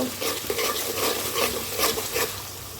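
Ginger paste frying in a pan, with a soft sizzle under several scraping stirs of a spoon against the pan, close and moderate in volume.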